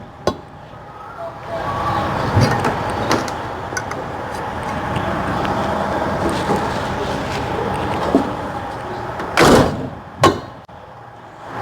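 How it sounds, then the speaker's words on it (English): The luggage compartment doors of a Prevost coach bus are worked during a pre-trip inspection. A few sharp latch and door thuds, the loudest near the end, sit over a steady background rumble of engine and outdoor noise. "Checking my luggage compartments. Make sure the doors are operational"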